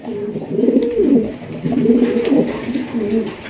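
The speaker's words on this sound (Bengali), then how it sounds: "বিশাল বড় সাইজে একজন মাল্টেস কবুতর মাশাল্লাহ ডাক দেখেন মাশাল্লাহ" A large Maltese pigeon coos close by in a deep, throaty rolling call, repeated in three steady phrases with brief pauses between them.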